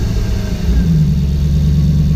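A V8 engine swapped into a Porsche 986 Boxster idles steadily and close by, a low continuous rumble with a slight lift partway through, no voices.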